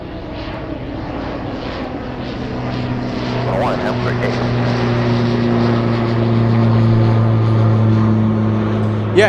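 An SF Airlines cargo airplane at Anchorage airport gives off a loud, steady engine drone with strong humming tones that swells gradually, while a person talks over it.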